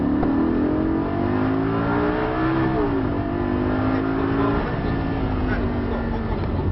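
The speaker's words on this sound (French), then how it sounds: "Regarde loin, on accélère, faut la tenir l'auto." A Lamborghini engine revs hard at full throttle during a track driving course, climbing steadily in pitch, loud and close, with a smooth rising drone throughout.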